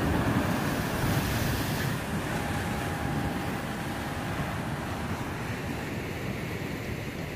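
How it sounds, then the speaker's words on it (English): Ocean waves break and wash against rocks on the Puerto Rico coast, a loud continuous roar of surf with steady wind noise on the microphone throughout. "There's a big one coming up."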